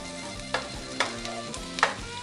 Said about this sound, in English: We'll cook these for a few minutes until they start to brown up